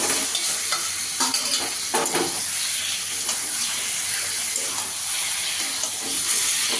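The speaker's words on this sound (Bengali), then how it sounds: "এবার আমি ম্যারিনেট করা চিকেনটা দিয়ে দেবো।" Marinated chicken sizzles in a hot pan while being stirred, making a loud, continuous hiss with scraping and a few knocks of a utensil against the pan.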